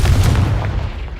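A Confringo spell blast from Hogwarts Legacy, a loud booming burst with heavy low rumble that rolls on and slowly fades over about a second.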